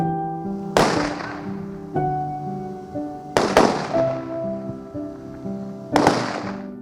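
Three loud automatic gunfire volleys crack out at even intervals as a Ukrainian military funeral salute, each ringing off, while slow mournful band music plays underneath.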